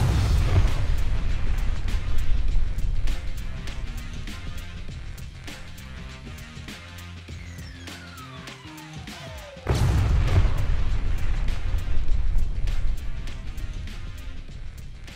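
Small pyrotechnic charges are fired, with a cluster of sharp rapid pops and bursts, a quieter stretch with a descending whistle-like tone, then another sudden loud burst followed by more crackling pops.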